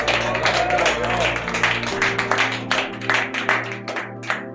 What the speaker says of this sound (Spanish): Dale fuerte ese aplauso, más fuerte, diga gloria a Dios.